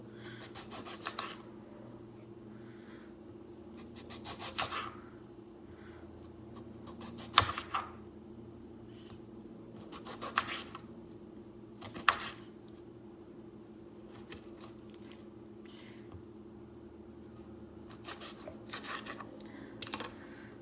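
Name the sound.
cutting up limes for a coconut mojito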